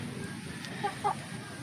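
A couple of soft clucks from chickens, brief and fairly faint, over a low background hum.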